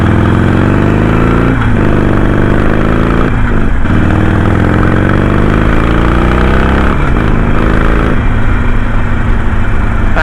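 Harley-Davidson Sportster motorcycle engine running loud and close, with a throaty, uneven V-twin rumble and several throttle blips that rise and fall in pitch.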